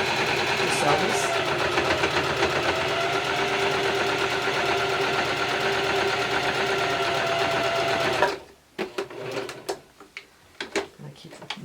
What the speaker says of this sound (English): it's nice and flat, so it's pretty easy to do. To sew this.